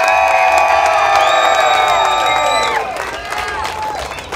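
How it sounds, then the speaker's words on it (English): Festival crowd at the California Avocado Festival in Carpinteria cheering loudly with whoops and shouts, children's voices among them, a sustained roar that fades after a few seconds into scattered cheers and clapping. "give it all you got with a cheer"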